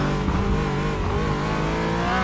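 Porsche Cayman engine in the iRacing sim, a loud sustained mechanical drone with rising and falling revs, no voices over it.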